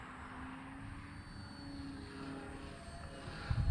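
An E-flite T-28 Trojan electric RC plane with a 1.1 m wingspan flies at under half throttle on a 2200 mAh 4-cell pack, producing a steady, fairly faint motor and propeller whine with a low thump at the end.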